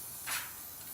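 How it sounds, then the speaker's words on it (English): A light mist of spray sealer hissing briefly from an aerosol can onto painted rocks, one soft short burst held about 8 to 10 inches away, faint against quiet room tone. "I give them a nice light first spray"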